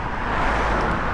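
A car rushes past on a road beside a cycle path, a steady, fairly close broadband road roar that holds throughout with no voices.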